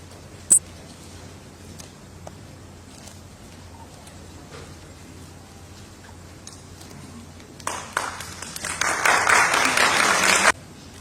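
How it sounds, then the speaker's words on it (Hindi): Applause breaks out from the audience at the National Icon Award show in Delhi, starting near the end after a quiet stretch and growing into a loud burst of clapping. "जोरदार तालियों से उनका स्वागत कीजिए"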